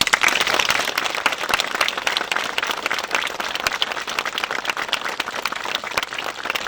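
An audience gives a former mayor a big round of applause, dense and continuous clapping that stays loud and even throughout without letting up.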